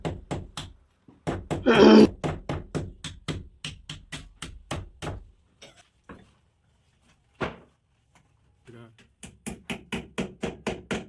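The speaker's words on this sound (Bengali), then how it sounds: "এটাকে পেরেক মেরে ভালো করে পাইপটা বসিয়ে দিতে হবে" A hammer drives a nail to seat electrical wiring pipe into a cut wall, sharp close blows landing in rapid rhythmic bursts, pausing midway before another quick series of strikes.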